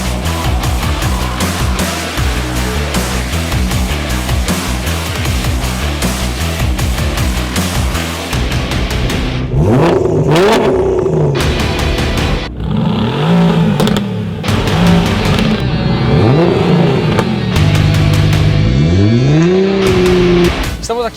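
Mercedes-AMG GT R with a 4.0-litre V8 biturbo, 585 hp and rear-wheel drive, launching and accelerating hard in a drag race. A loud steady engine roar runs through the first half, then repeated rising revs climb through gear changes.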